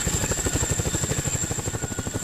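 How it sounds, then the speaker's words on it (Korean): A Chinook military helicopter lands during airborne training, its twin rotors thudding in a rapid steady beat under a high whine, close and continuous throughout. "드디어 고공 강화를 위한 헬기 시누크가 착륙하고"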